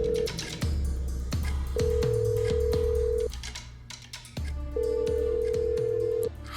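A phone call ringing with no answer: repeated long ring tones separated by pauses, with thuds and other clicks and knocks around them, fairly close.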